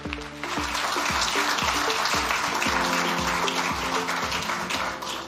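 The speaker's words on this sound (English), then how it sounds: "Give him a warm applause" A conference audience in Bled, Slovenia applauds to welcome a State Secretary of the Ministry of the Economy, Tourism and Sport onto the stage, loud sustained clapping under a steady rhythmic musical beat.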